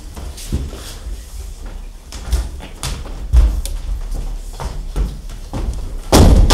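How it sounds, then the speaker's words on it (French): A heavy door swings shut inside a castle, landing as a sharp slam near the end amid a busy, echoing theatrical scene with scattered thumps and knocks. "La porte s'est refermée."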